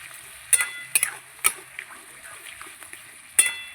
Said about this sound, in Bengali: দই দিয়ে এভাবে নাড়তে হবে।